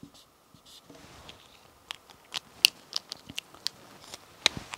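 Pen writing on paper, a run of soft scratchy strokes and light taps in an irregular rhythm, quiet and close, with no talking.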